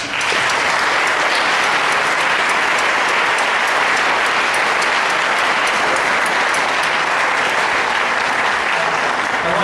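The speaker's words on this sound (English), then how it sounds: "Let's give these students a round of applause." Sustained applause from an audience at a student debate, dense steady clapping filling the room at full volume for the whole stretch, with no talking over it.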